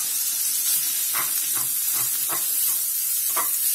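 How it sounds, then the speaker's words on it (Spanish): Minced meat fries in melted butter in a frying pan, a loud hissing sizzle steady throughout with several soft scraping stirs of a utensil pushing the meat around. "Ahora que tenemos fundida la mantequilla, echamos la carne picada."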